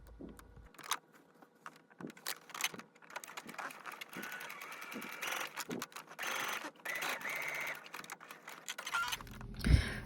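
A sewing machine stitches an extension panel onto the back of a colour-block shirt made from McCall's pattern 8001. It runs in uneven stretches of rapid mechanical clicking and whirring, close by, with short pauses between runs.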